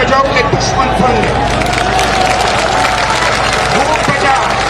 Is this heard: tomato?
no